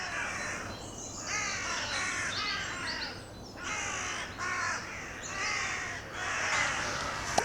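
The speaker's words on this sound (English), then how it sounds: "I don't think these crows are happy." Several crows caw harshly and repeatedly in woodland, a run of raspy calls in bursts with short pauses, fairly close and loud over quiet outdoor background.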